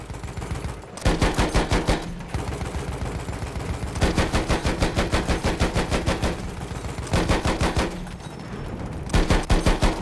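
Rapid bursts of small-caliber gunfire from a gun mounted on an armored train in the World War I shooter Battlefield 1, loud and close, in several long strings of shots separated by short pauses.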